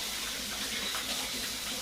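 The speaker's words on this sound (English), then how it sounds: "Let's just wash off our hands quickly." Tap water runs steadily into a sink while hands are rinsed under the stream in a home kitchen, a continuous close splashing hiss with no voices.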